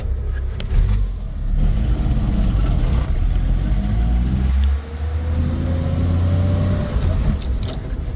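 A 1985 Jeep CJ7 engine pulls away and accelerates, a steady loud low drone running under cabin noise, with a brief dip near the middle before it picks up again.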